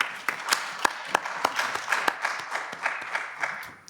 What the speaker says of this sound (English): let's give a big hand of applause to Claudia and SignTime